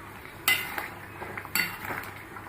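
A utensil stirs an egg and potato curry in a black wok, with two sharp metallic clanks against the pan and softer scraping between them, close and without speech.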